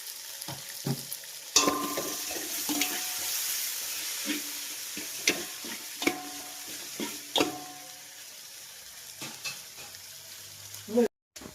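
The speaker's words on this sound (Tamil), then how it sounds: "தக்காளியை போட்டு வசக்கிக்கலாம்" Tomatoes sautéing in a pan for a fisherman's curry cooked in Qatar, with a soft steady sizzle broken by repeated stirring scrapes and clinks of a spoon against the pan.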